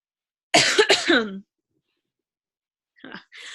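A pair of sharp, loud coughs near the mic, then silence, followed by a faint throat sound toward the end.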